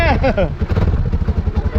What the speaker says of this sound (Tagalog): Nakailang sipa rin ako bago umandar ang motor.